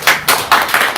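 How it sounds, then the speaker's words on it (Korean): An audience at a science forum claps to welcome the chairman to the podium. The applause comes in several loud, close bursts with brief dips between them and no talking. "박수로 모시도록 하겠습니다."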